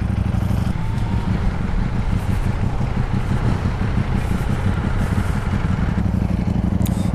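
A Yamaha XSR900 retro-styled motorcycle on a test ride, its engine droning loud and steady close by with constant wind and road rumble, no voices.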